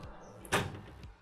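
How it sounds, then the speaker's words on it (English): A desk drawer slides open with a single short rumbling scrape, close and moderately loud, with a soft knock at its start and a lighter bump as it stops. "let's try to look at the first drawer."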